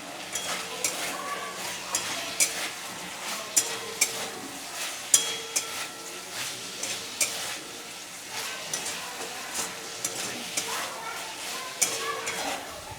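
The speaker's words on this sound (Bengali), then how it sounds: "বন্ধুরা এখন আমি এর মধ্যে কাঁচকলা ভাজাটাও দিয়ে দিলাম" Fried green banana pieces stirred and sautéed in a spice paste with potatoes, sizzling steadily while a utensil scrapes and clinks against the pan in repeated strokes, close and fairly loud throughout.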